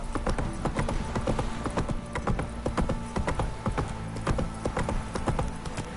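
Video-game horse hooves in The Witcher 3: Wild Hunt clip-clop in a steady, quick rhythm, loud and continuous over a rumbling background.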